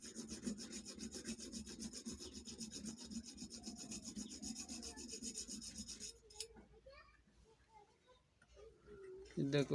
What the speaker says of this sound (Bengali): এই পাতি দুটো আমি একটু ঘষে দেবো